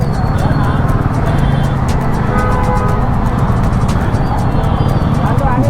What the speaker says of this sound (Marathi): किती जास्त ट्रॅफिक आहे, खूप क्राऊड आहे